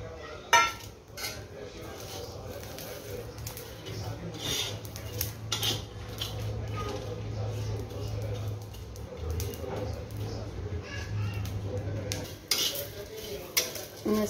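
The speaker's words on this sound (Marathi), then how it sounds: "मसाला छान भाजून झालाय" Whole spices such as cinnamon, green cardamom and coriander seeds are dry-roasted and stirred in a pan on a gas stove, giving close, intermittent scraping, rattling and metallic clinks over a low hum.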